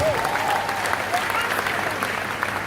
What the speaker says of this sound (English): Can you clap for my mastermind, please?